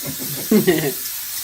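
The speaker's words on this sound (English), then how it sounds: "And I'll spray the pan with Pam." A short hissing burst of Pam cooking spray coated onto a baking pan for Amish bread, a brief spray heard close up against a steady background hiss.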